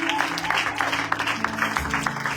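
A church congregation claps together, a steady patter of applause at moderate distance with a low hum and some murmur of voices underneath.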